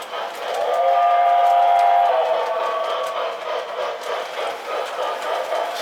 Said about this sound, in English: See this train in action here.